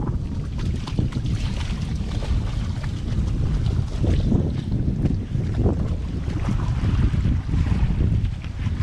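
Strong, steady wind buffeting the microphone at an RV campground on a stormy day, a continuous loud roaring rush with gusty swells throughout.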